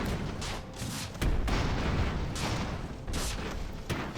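Repeated heavy booms of rockets and cannons firing in the Airships: Conquer the Skies game, with loud thumping blasts recurring about every second over a dense rumbling battle din.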